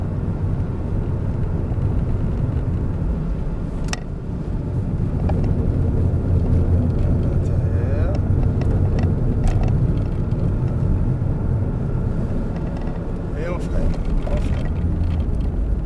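Ford Focus RS driven on track, engine droning loudly as it accelerates, with someone talking over the noise and a few sharp clicks and squeaks along the way.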